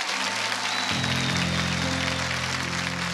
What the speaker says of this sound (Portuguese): Pode bater palmas de verdade.